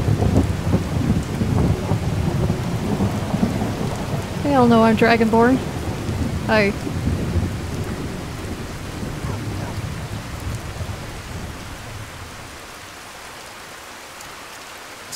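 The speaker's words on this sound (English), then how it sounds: "So, yes, and also it's raining." Rain falls steadily in the video game Skyrim with a low thunder rumble underneath, loud at first and slowly fading toward the end, while a voice speaks briefly and a melodic tone sounds midway.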